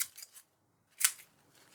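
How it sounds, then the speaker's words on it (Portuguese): Scissors make short snipping cuts through nori seaweed wrapped around rice onigiri, with a quick cluster of small snips followed by a pause and one louder, close cut. "aqui na ponta com uma tesoura, leves cortes até chegar no arroz"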